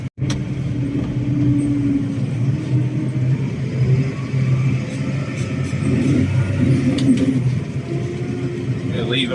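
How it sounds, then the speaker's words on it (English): Tractor fitted with a buck rake working a silage clamp during first-cut silage, its steady loud engine rumble and mid-pitched drone running continuously close by, with slight load changes and faint clatter throughout. "This tractor's quite good in the buck rake though, because it's got a 5-ton front link."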